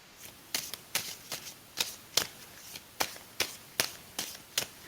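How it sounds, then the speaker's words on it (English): A deck of cards is shuffled in a series of about ten crisp, quick riffling bursts at a steady rhythm, fairly quiet and close, with no voices during the shuffling. "Tell me when I should stop shuffling."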